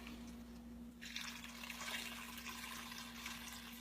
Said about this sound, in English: I probably have 3/4 of my pot full of water